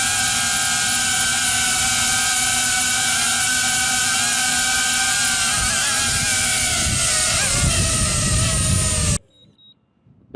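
A DJI Avata 2 drone coming in to land makes a loud, close, high-pitched propeller whine that wavers and drops in pitch, then cuts off abruptly into near silence.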